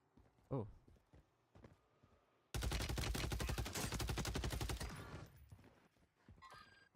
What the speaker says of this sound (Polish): Tutaj średnie, średnie strzały z mojej strony